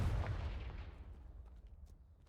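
A fire-blast spell from the wizarding video game Hogwarts Legacy lands as a heavy booming burst that rolls into a fading rumble, loud and alone.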